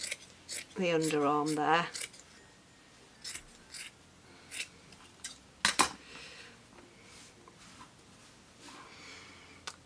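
Scissors snipping through fabric close along a seam to cut out fingerless gloves: scattered sharp snips and blade clicks, with a short spoken phrase early on.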